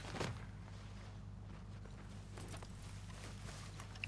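A horse walks in a hunting video game, hooves clip-clopping in a steady, faint rhythm of soft repeated steps.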